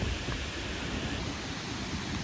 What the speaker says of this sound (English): I can hear the water. It's a big river over here.